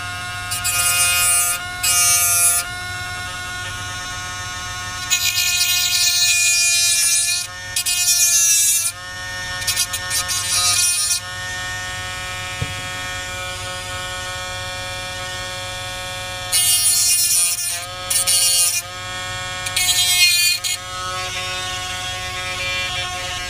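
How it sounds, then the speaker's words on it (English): A Dremel rotary tool grinds a small nub off an amplifier kit part, making close, high-pitched whining bursts that start and stop several times over a steady background hum. "I can even Dremel that little nub off of there."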